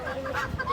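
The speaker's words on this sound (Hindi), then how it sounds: "ये तो मुर्गे भी हैं" Chickens and roosters cluck in a nearby coop at an ashram, a soft, continuous mix of overlapping calls with a small thump partway through.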